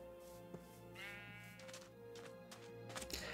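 Sheep in the survival game After Humans give a few quiet wavering bleats over a steady droning in-game background hum.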